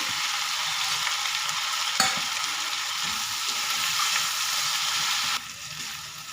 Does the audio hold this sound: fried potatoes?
yes